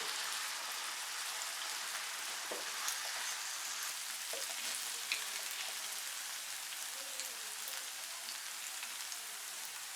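Diced potatoes and chopped onions frying together in a pan, a continuous soft crackling sizzle like light rain that stays steady and fairly quiet with occasional small pops.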